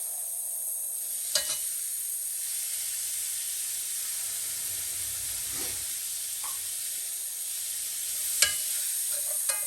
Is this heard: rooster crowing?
no